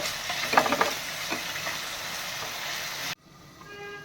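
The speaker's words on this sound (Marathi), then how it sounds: "आता त्यानंतर आपण लाल भोपळा टाकूया तो सुद्धा परतून घ्यायचा आहे" Red pumpkin pieces stir-fried in a pan give off a close, steady sizzle broken by a few scraping stirs, then the sound cuts off abruptly after about three seconds.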